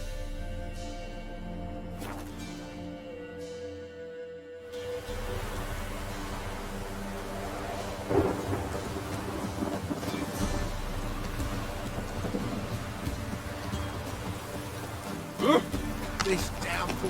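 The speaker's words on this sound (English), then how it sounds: "This downpour's a bastard." Steady rain hiss with low rumbling thunder from a downpour in Witcher 3: Wild Hunt, constant and close under faint voice and game sounds, with a couple of louder crackles along the way.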